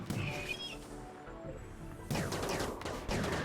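Gunfire and mortar fire from the colony game Rimworld make a dense crackle of rapid shots with sudden louder bursts, steady and fairly quiet, with no talk.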